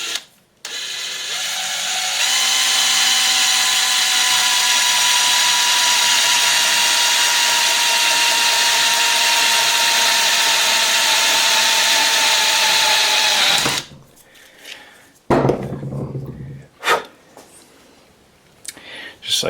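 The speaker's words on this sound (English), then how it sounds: "I am going to drill a small little hole in here." A power drill boring a small hole into a Getrag transmission part from a 2004 BMW E46 325Ci, a steady high whine held for about twelve seconds, then short clicks and handling noises.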